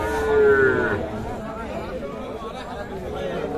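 At a village cattle market selling Sahiwal bull calves, one close, short moo rises over a busy crowd of talking buyers and sellers.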